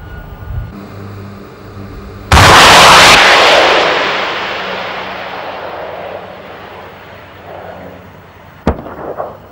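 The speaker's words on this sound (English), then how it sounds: "At the approach of the towed sleeve, the gunner acquires the target and prepares to fire." A Bofors anti-aircraft gun fires on a towed sleeve target: one sudden, very loud near blast with a long rumbling decay that rolls on for seconds, then a sharper, shorter report near the end.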